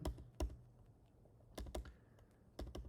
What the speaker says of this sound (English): I'm fine typing it by hand